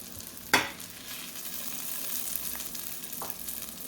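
Sautéed onions sizzling in a pan for a homemade burger, a steady close frying hiss with a sharp clink near the start and a softer knock later, no talking.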